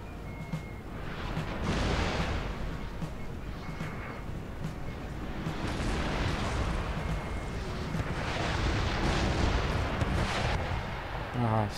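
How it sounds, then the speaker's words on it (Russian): An artillery battery in Napoleon: Total War fires in a series of heavy booming salvos, each a broad rumbling blast rolling out over several seconds, with someone talking over the gunfire between volleys. "Долбанет у нас артиллерия. Все сразу, все орудия по одному-то."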